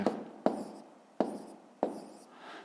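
Pen strokes scratching on paper while a column multiplication of decimals is written out, a few sharp taps marking each new figure followed by steady faint scratching.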